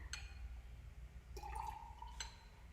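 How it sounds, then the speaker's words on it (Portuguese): Water is poured from a glass into a graduated cylinder while measuring ingredients in a kitchen class, giving a faint, rising trickle with small glassy clinks, quiet against background hum. "Encho meu copo até a borda de água e passo então para minha proveta."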